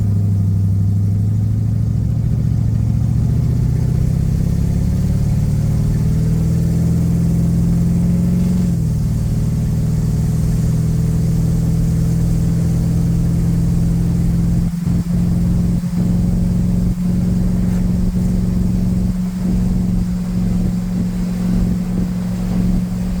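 A car engine drones steadily at highway speed after a Holley Sniper fuel pump install, its low hum rising in pitch as it accelerates, with wind rush and a few faint knocks later on.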